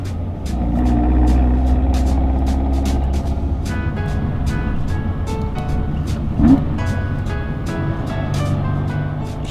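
A 1963 Alfa Romeo Giulia Sprint 1600 drives along with a steady, loud engine drone and road rumble throughout, punctuated by regular faint ticking.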